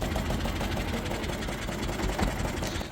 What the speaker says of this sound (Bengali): ছোট্ট খালটি থেকে ট্রলার নিয়ে আমরা বেরিয়ে আসলাম বড় নদীতে